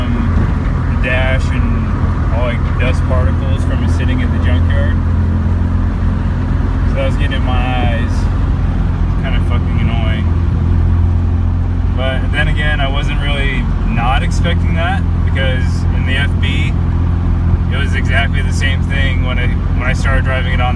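A Mazda RX-7 SA22C that had sat in a junkyard since 2009 driving on the highway, with steady engine and road rumble throughout and a person talking over it.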